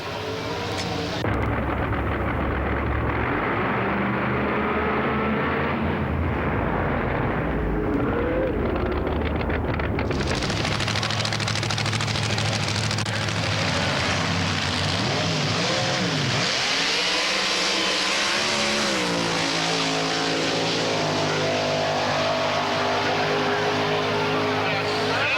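Race car engines roar loudly and continuously during a match race, with wind buffeting the microphone and the engine tone shifting and rising partway through.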